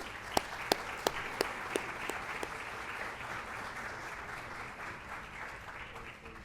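Audience applause for student athletes called up at a school athletic awards ceremony, opening with several sharp individual claps before settling into steady, even clapping from a crowd that holds through to the end.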